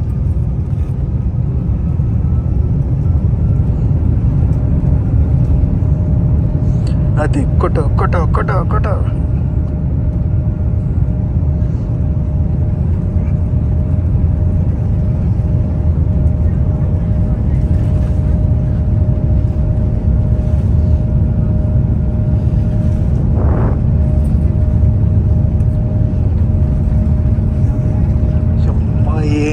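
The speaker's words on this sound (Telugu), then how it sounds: "మన ఫ్లైట్ అయితే ఇప్పుడు టేక్ ఆఫ్ అవుతుంది కదా" Dense cabin rumble from a Nepal Airlines Airbus A330 accelerating down the runway on takeoff, steady and loud throughout, with brief voices and clicks over the roar.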